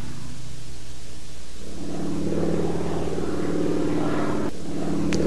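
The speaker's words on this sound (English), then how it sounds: "Formation takeoff from number 2 field." Propeller airplanes take off in formation from a training airfield, their engines building into a steady, rumbling drone that fills the whole stretch.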